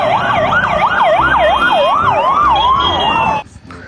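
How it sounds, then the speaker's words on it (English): Toy ambulance siren wailing in a fast rising and falling electronic tone, loud and close, running steadily for about three and a half seconds before cutting off abruptly. "ambulance."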